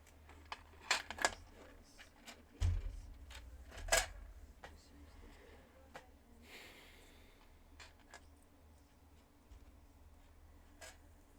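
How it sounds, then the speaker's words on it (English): Dull scissors cutting paper for a book-edge decorating craft, giving a series of close, scattered snips and crunchy cuts with pauses between them, fairly quiet and without talk. "Oh my gosh, these scissors are stupid."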